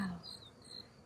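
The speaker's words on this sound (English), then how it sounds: "Yay, so many bees, so many bees." Dense swarm of honeybees buzzing around a hive, a continuous insect hum that starts louder and settles into a steady, close drone with no talking.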